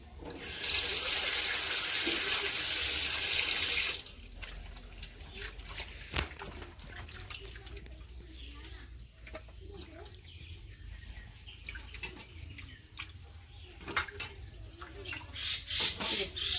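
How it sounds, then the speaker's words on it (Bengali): Raw chicken meat being washed under a running kitchen tap, a loud rushing stream of water pouring for the first few seconds, then quieter splashing, handling and dripping. "এখন এই যে মাংসটা ভালো করে পরিষ্কার করে মাংসটা ধুয়ে নেবো।"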